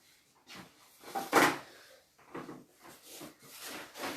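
A drawer is opened and rummaged through while searching for a palette knife at a painting session, giving a series of soft wooden slides, knocks and rattling clatters of varying loudness with no speech.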